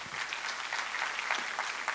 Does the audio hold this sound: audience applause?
yes